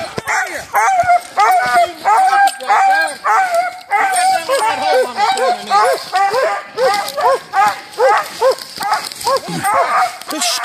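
Bear hunting dogs bark and yip repeatedly on opening day of Virginia bear season, a loud, rapid, overlapping chorus of close barks with some whimpering through the whole stretch.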